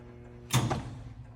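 A vintage Huppert heat-treating furnace door swings open in one short mechanical clunk with a brief creak, heard close over a steady low electrical hum.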